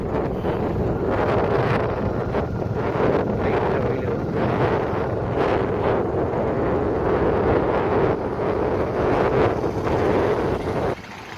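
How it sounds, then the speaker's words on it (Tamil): A strong headwind buffets the microphone outdoors near Pudukulam, Cumbum, producing loud, constant rumbling gusts that drop off abruptly at the very end. "அந்த காற்று எதிர்காற்று"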